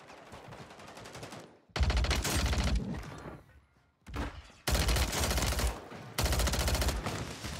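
Heavy automatic gunfire in Warzone 3 on Rebirth Island, loud sustained bursts broken by short pauses, with dense rapid shots and booming low impacts.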